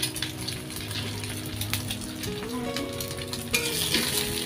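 Egg frying in a pan while it is stirred, a close crackling sizzle with metallic scraping and clinks of the spoon, rising bright near the end, no voices.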